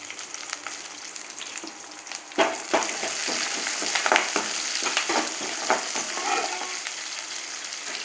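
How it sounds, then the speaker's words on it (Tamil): Steady sizzling of onions, shallots, garlic and curry leaves frying in hot oil, with a burst of louder crackle and repeated stirring scrapes partway through, close and continuous. "கருவேப்பிலை வெள்ளைப்பூடு வெங்காயம் சின்ன வெங்காயம் நறுக்கி வச்சுருக்க எல்லாம் போட்டு நம்ம வந்து வதக்கணும்"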